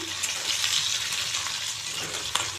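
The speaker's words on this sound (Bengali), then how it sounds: "মাশরুম রেসিপিটায় দেওয়ার জন্য আমি কিছু আলু বেজে নিচ্ছি" Potatoes fry in a pan with an even, bright hiss of hot oil, close and steady, with a faint stir near the end before it cuts off.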